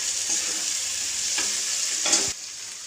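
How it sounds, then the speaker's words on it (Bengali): Fresh green peas sauté in a hot pan, with a steady bright sizzle broken by a few scraping stirs of a spoon, close by and with no voices. "মটরটা দিয়ে খানিকক্ষণ কষে নেওয়ার পরে"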